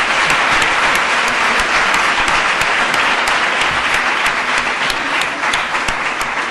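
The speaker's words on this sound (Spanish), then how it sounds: "que os den un aplausito," Students in a talk audience applaud steadily, a dense even wash of clapping that holds at full strength with no voices over it.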